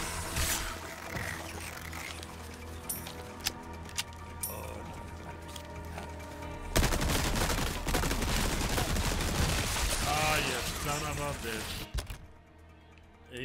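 Enemy gunfire in Resident Evil 4 Remake bursts in rapid volleys, sharp cracks clustering into a loud stretch of sustained shooting amid game noise, with a person talking over it.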